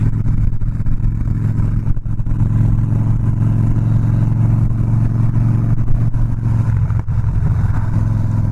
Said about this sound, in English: Ooh, a little exhaust pop there.